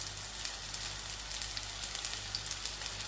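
Butternut bhajis fry in hot oil with a steady, close fizzing sizzle and small crackling pops, continuous for a few seconds and heard without talk.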